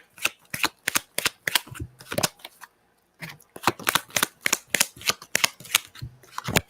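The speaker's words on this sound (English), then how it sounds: "when the cards want to come out, there's some money for you there, Talisha." Playing cards are shuffled during a card reading, a close series of sharp riffling bursts in two runs with a short pause between them.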